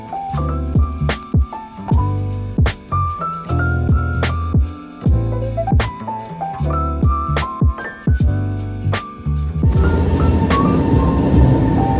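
Metro train ride on a one-transfer line to Singapore's Changi Airport: rolling rail rumble with repeated clicks and clacks of wheels over track joints, continuous and fairly loud, turning to a brighter hiss near the end.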